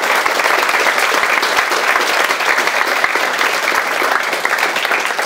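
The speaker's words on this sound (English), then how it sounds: "Please have a round of applause for Dr." A lecture audience gives a round of applause after a question-and-answer session with a speaker, a loud, dense and steady wash of clapping that continues unbroken throughout.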